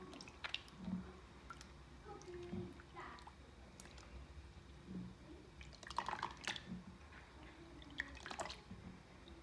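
Sourdough starter is stirred into a bowl of water, giving quiet, irregular wet squishes and small drips throughout over a faint steady background hum.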